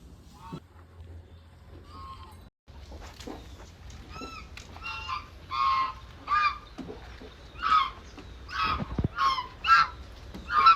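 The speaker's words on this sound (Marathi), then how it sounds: "आता हे बदक काय बोलत होते मला तर समजलं नाही" Loud, repeated quacking and honking calls from several ducks, coming in short bursts that grow more frequent and louder toward the end.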